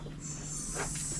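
A steady, faint high hiss of escaping air from an air line runs continuously under a low hum during work on a Mini Cooper S front end, with a brief soft rustle near the end.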